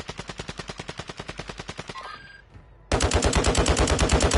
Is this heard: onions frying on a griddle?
no